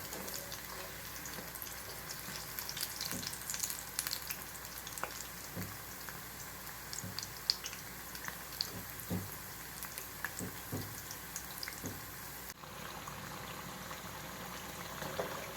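Baby corn bites frying in hot oil until golden brown, a steady dense crackle and sizzle with scattered pops, continuous and close throughout.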